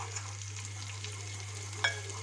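Butter with red pepper flakes sizzling in a pan, a faint steady crackle over a constant low hum, with one brief clink near the end.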